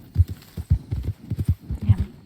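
Horse hooves clip-clop in a steady, uneven trot within a video game, with several clear close hoof strikes over about two seconds and no talk.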